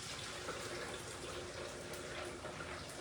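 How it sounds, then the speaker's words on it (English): Sweet tea being poured from a pitcher into a cup over sugar, giving a steady, continuous watery pouring stream at moderate level, with no talking. "You just pour your tea"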